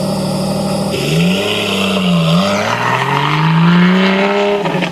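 A Porsche 718 GT4 RS sports car engine revs hard and rises in pitch, loud and close, and the engine note climbs and holds with no voices over it.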